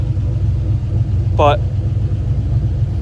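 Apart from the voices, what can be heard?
LS engine car idling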